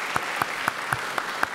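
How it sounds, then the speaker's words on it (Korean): A congregation at a church ordination ceremony claps in slow, regular unison, six sharp claps in a row, loud and close. "들어가서 앉으실 때까지 박수로 격려해 주시면 예."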